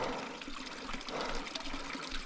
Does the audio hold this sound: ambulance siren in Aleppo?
no